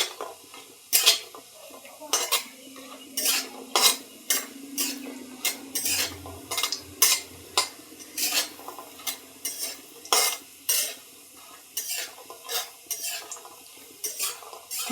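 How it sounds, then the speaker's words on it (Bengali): Soybean chunks are lightly fried in a pan, with a utensil repeatedly scraping and clanking against the metal in an uneven rhythm over a faint sizzle, close and clear with no talking. "হালকা করে ভেজে নেব সয়াবিনটা।"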